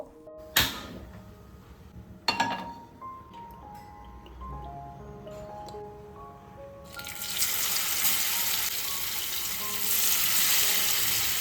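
Marinated paneer pieces land in a pan with a couple of clanks, then a hiss of frying swells and holds loud and steady, with faint tonal background sounds early on.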